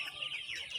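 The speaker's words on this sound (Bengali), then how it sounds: "এই যে মুরগিগুলো আসলে" Chickens on a poultry farm give a brief burst of close, high clucking, a few quick overlapping calls within under a second.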